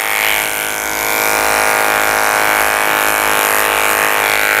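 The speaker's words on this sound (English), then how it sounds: "I'm going to shave his whole belly out with a 10 blade." An electric grooming clipper fitted with a 10 blade shaves the belly of a toy poodle, a steady loud close-up buzz running continuously throughout with no talk.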